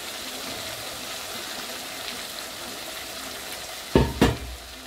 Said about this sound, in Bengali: আমার পেঁয়াজ এখানে ভালো ভালো ভাজা হয়ে গেছে, এদিকে আমার টমেটোটাও ভাজা হয়ে গেছে